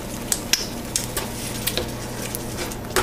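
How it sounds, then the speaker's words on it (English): Spaghetti squash sizzles softly in a hot pan, with a low, steady frying hiss and a few light clinks and taps of utensils against cookware, fairly close. "our squash is roasting in the pan"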